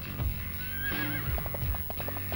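A horse whinnies loudly nearby in Dynasty Warriors 3, followed by quick clip-clop hoofbeats, all with a game-like, processed quality.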